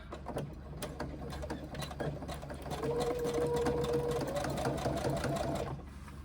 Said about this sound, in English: So we start sewing.